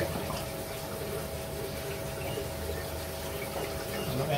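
Water from a pump running through a pipe into an aquarium, a steady continuous trickling and gushing wash, quiet and unbroken throughout.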